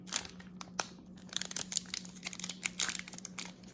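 Plastic wrapper of a trading card pack being cut and pulled open with scissors, close, quiet crinkling and crackling in irregular bursts, with no talking.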